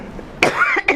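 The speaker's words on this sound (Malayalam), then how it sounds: "ചുമയുണ്ട്, ജലദോഷം," Two short, close coughs, a harsh burst followed by a second rough cough, with no talking.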